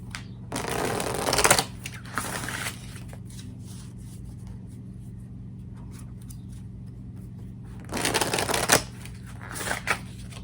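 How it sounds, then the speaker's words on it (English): Tarot cards are shuffled in two short bursts of crisp riffling and flicking, close and fairly quiet, separated by a long stretch of low room hum with no talking. "let's pull some tarot"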